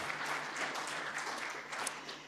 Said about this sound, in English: we hear a round of applause for our NeuroFest leaders